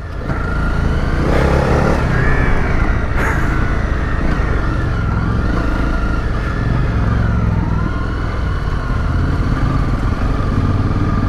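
Two motorcycles, a Honda NC700S and a CRF250 Rally, ride an off-road green lane, their engines droning loudly and steadily close to the microphone with some revving and no talk.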